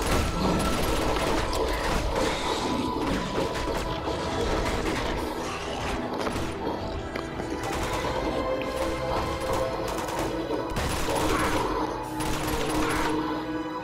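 Gunfire in the video game Uncharted: The Nathan Drake Collection rattles continuously and loudly, with crashing impacts and clattering mixed into the dense barrage and no voices over it.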